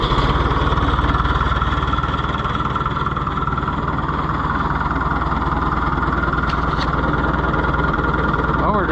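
A Fiat Oliver 1365 tractor engine runs at a steady, loud idle with a constant low rumble throughout, close by and unchanging.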